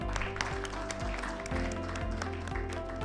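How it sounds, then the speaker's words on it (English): An audience at a talent and HR conference panel applauds a panelist, a steady wash of many hands clapping, with music or low rhythmic sound running underneath. "Let's have a huge round of applause, ladies and gentlemen, for Ms. Deepti Mehta."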